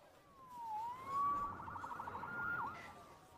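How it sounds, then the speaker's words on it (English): A police siren wails, sweeping up and down before switching to a rapid yelping warble, heard at a moderate distance. "Saved by the siren."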